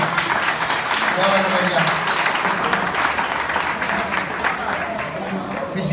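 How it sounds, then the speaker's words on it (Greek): Audience applause at a regional inter-club awards ceremony, a continuous crowd of clapping that runs the whole time while a voice speaks briefly over it. "χειροκρότημα."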